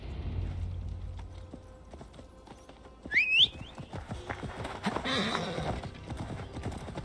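A horse ridden through a forest in the Assassin's Creed Valhalla video game, rhythmic clip-clop of hooves throughout, with a sharp whinny partway in, close and fairly loud.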